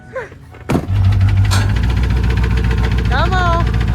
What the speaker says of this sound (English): That sounds horrible. Now, Nate, I ain't no diesel mechanic, but I don't think it's supposed to be doing that.